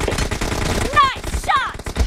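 A short burst of gunfire in PUBG cracks out in two quick clusters of shots over a busy background.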